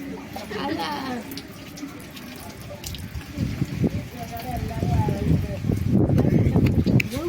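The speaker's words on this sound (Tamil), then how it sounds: "ஊத்த ஒழுங்கா ஊத்து நவியா" Water poured during a Pongal festival game splashes and gurgles in uneven bursts, growing louder toward the end, beneath people talking.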